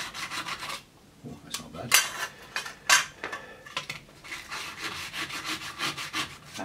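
A metal part is scrubbed back and forth on sandpaper to take off burrs, giving irregular rasping strokes with short pauses between them, close and moderately loud, with a brief spoken remark.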